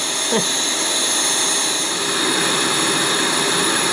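Boeing 737-700 engine 2 running in the X-Plane 11 flight simulator, a loud, steady jet whine and roar that holds constant throughout, with a brief rising tone near the start.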